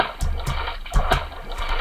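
A water splashing effect from a Scratch game in which a cartoon pig jumps into a fish bowl, heard as a series of quick repeated splashes and gurgles at moderate loudness, without any talking.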